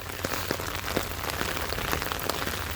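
Heavy rain pours steadily during a stormy May day in Bath, Maine, a dense continuous hiss of drops pattering on surfaces and an umbrella, close and loud throughout with scattered sharper drips and no voices.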